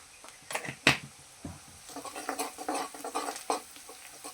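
Vegetables for a shev bhaji are stirred and sautéed in a pan with Kitchen King garam masala. Light scraping strokes and soft sizzling patter come in uneven bursts, close and fairly quiet, with no talking.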